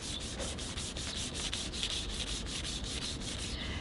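Steady, close scrubbing swish of a Meguiar's clay bar rubbed back and forth over a car's painted panel, a continuous gritty friction sound with soft rhythmic strokes and no voices.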